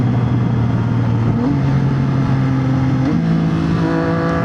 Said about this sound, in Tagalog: Ito na nag-upshift ako nang nakapiga sa throttle.